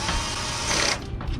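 A power screwdriver set to its lowest clutch setting ratchets and slips while driving screws into the plastic of a Casio CPS80 88-key electric piano. It gives a short, close, buzzing mechanical clatter that stops just under a second in.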